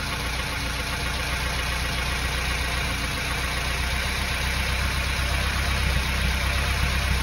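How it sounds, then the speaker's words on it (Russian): A Zhiguli car's engine idles steadily and loudly at close range while the ignition distributor is being adjusted, a continuous rumbling drone with a slight rise in revs toward the end. "Чисто на холостых его сдвигать на раньше. Слышно, да? Обороты поднимаются."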